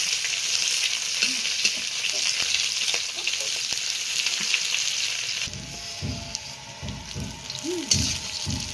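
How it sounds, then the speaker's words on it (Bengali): Chopped onion frying in hot oil with dried chilli, bay leaf and cumin on a clay village stove, a steady close sizzle that drops abruptly midway, followed by scraping spoon strokes and rhythmic stirring. "পেঁয়াজটা একটু ভাজা ভাজা করে নেব"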